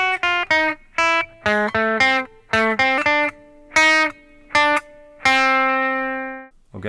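A guitar plays the Super Mario Bros. theme from measure 11 as a series of short, bright single notes in a bouncy rhythm. A final note rings out and fades.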